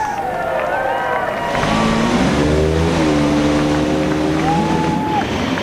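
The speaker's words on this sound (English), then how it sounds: "Drivers, start your engines." IndyCar race car engines fire up and rev at the 2013 Honda Indy Toronto street race. Several engines start after a brief pause, climbing and falling in pitch, loud and overlapping, with crowd noise and commentary beneath.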